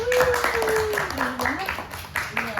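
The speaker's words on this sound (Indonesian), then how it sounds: "Kasih tepuk tangan buat." Students in a classroom clap together after a correct answer, a busy patter of many hands, while a voice speaks over it with rising and falling tones.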